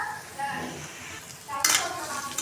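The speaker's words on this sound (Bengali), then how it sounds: "আগে মরিচটা ভেজে নিই।" Dried chilies frying in a pan, a soft sizzle that jumps to a brighter, louder crackle partway through, with faint utensil clinks.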